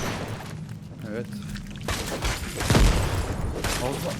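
An explosion bursts in Lego Fortnite amid a chaotic spread of cracks and booming thuds, loud and close, with voices talking over it.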